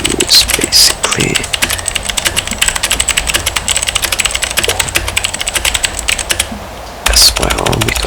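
Rapid, steady clicking of someone typing on a mechanical keyboard with clicky, tactile Cherry MX Blue switches and SA profile keycaps, close and continuous with brief pauses, a few faint voice sounds underneath.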